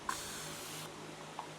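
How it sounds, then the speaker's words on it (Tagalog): A single sustained spray of grooming product onto a mustache, a close hissing burst lasting under a second, with faint small clicks around it. "Una, spray nyo yung bigote nyo."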